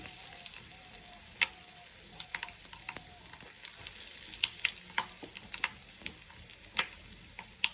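Mustard seeds and dried red chillies fry in hot oil for a sambar tempering, giving a steady close sizzle dotted with many sharp pops and crackles.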